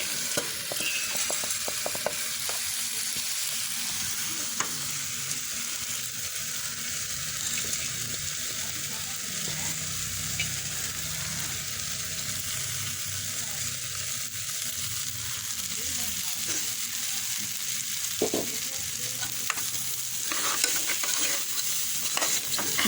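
Moong dal being fried in ghee in a pan while stirred for Telugu green gram pongal, a steady close sizzle with continuous scraping stir strokes and occasional clicks, running unbroken with no voices.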